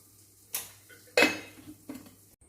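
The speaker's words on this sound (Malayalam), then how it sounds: "അപ്പോൾ ഈ ഉപ്പും പാത്രം മൂടി വെക്കുക." A lid goes onto a pot of salt with a few close metallic clinks and clatters, short and sharp, in a quiet kitchen.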